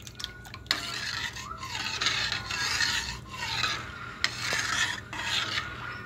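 A spoon stirring kadhi, a gram flour and yogurt curry, in a pot, with repeated scraping swirls in an uneven rhythm over a low background hum, close and moderately loud, with no talking.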